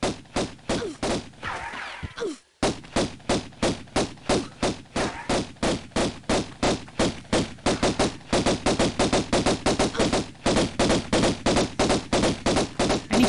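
Rapid bursts of gunfire from the 1996 video game Tomb Raider ring out as a steady, loud stream of evenly spaced shots, pausing briefly near the start before continuing without a break to the end.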